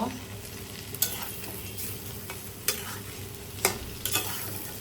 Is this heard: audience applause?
no